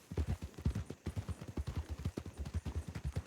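Horse hooves clip-clop at a steady trot in the RedM Western roleplay game, a quick even rhythm of close, clear hoofbeats with no talk over them.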